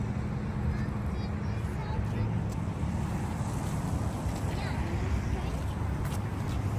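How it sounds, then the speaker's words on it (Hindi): Cold wind blowing outdoors in Canmore, a steady low rushing roar buffeting the microphone throughout, loud and continuous. "ठंडी हवा चल रही है। बहुत ठंडी।"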